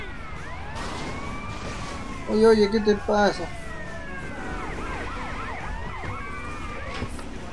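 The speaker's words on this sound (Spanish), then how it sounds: "Ahora me aparecen como 50 patrullas." Police sirens from the GTA Vice City video game wail in sweeping rising and falling tones throughout, with a louder burst of game sounds in the middle while someone speaks briefly over them.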